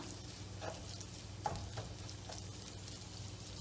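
Leek filling with tomato paste, black pepper and chili flakes sautéing in a pan, a soft steady sizzle with faint stirring scrapes throughout, quiet and close, no talking.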